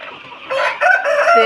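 Several chickens cluck and squawk in a noisy, overlapping chorus, close by and fairly loud, with the calling growing busier partway through.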